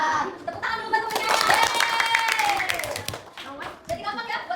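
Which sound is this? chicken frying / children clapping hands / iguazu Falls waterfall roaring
children clapping hands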